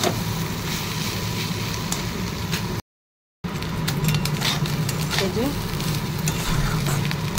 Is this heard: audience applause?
no